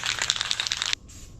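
An aerosol spray paint can releases a bright, close hiss in short pulsing bursts for about a second, then cuts off abruptly, leaving a faint tail.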